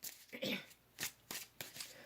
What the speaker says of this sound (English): we'll continue shuffling the cards out as we go